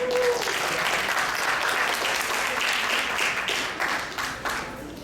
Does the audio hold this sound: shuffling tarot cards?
no